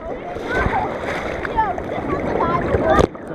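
Rough surf crashes and splashes at a beach in a continuous loud wash of broadband noise, with people shouting and talking over the churning water.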